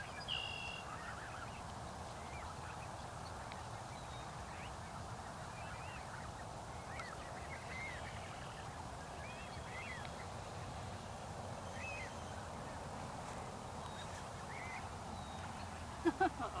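Outdoor geese give short, scattered honks while several chase another goose: faint, irregular calls over a steady background hiss, with a couple of louder knocks at the very end.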